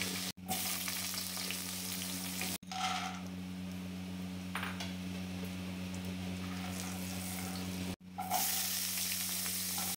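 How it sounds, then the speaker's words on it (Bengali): Mixed vegetables for a Bengali sukto fry in oil in a pan, giving a steady close sizzle with stirring scrapes, briefly cut off twice, with no voices. "পরে আমি একে একে সব সবজিগুলো এইভাবে ভেজে নেব।"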